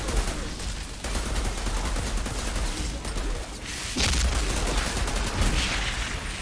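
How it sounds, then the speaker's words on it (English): Assault rifle fire in the video game Outriders, loud sustained bursts of rapid automatic shots running through the whole stretch, with brief pauses between volleys and explosive impacts mixed in. "With my new assault rifle."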